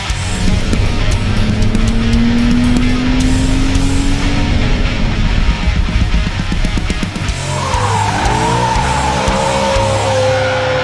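A Toyota Supra roars by, loud and close, its engine note climbing and then dropping as it passes, with a sharp tire squeal and skid sweeping in near the end.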